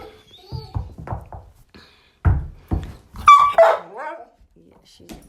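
A dog eager to play ball gives loud, sharp barks indoors at close range in short irregular bursts, with some whining yelps mixed in and quiet gaps between them.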